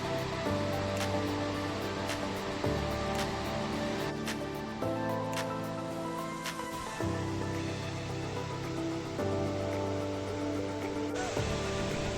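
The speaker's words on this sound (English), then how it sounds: "it's also one of my favorite waterfalls in Iceland" A waterfall in Iceland's Westfjords roars in a steady, broad rush of falling water that holds at an even loudness throughout, with no voices.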